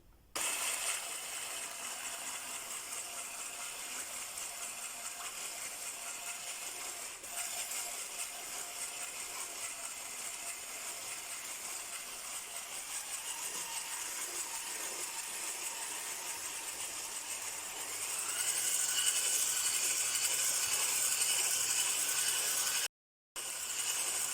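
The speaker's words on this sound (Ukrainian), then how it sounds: "Збиваємо спочатку міксером на невеликій швидкості, пізніше ми її збільшимо." Electric hand mixer whipping cream of at least 33% fat at low speed, a steady continuous whir that holds evenly throughout and grows slightly louder near the end, with no talking.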